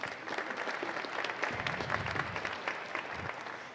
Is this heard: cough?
no